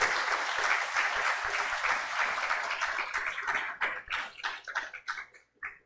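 Church congregation giving a round of applause for a group during a Sunday service, sustained dense clapping that breaks into scattered, fading claps toward the end.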